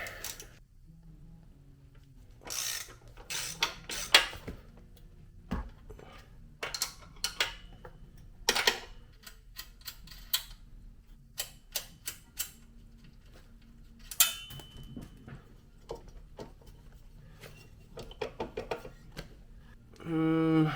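Metallic clinks, taps and scraping clatter from wrenching the old muffler off a Predator 212 mini bike, scattered sharp hits over a quiet background, close and sparse.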